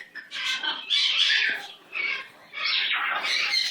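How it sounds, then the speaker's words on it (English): A pet bird squawks close by in a series of harsh, bursty calls, four or five loud raspy outbursts separated by brief pauses, with no one speaking. "That's my pretty bird."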